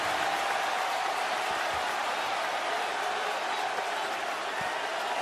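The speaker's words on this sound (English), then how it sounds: "That's the cheer in the fourth quarter of game 3." A big indoor arena crowd at Madison Square Garden roars steadily during a fourth-quarter NBA playoff game between the Knicks and Celtics, a dense, sustained wash of cheering with no breaks, heard from within the stands.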